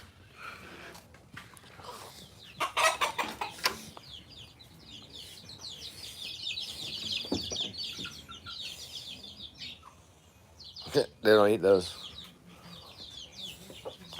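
Several backyard chickens cluck and chirp in a small, slightly dirty coop, scattered bursts rising loud at moments over low rustling, while a person talks briefly nearby.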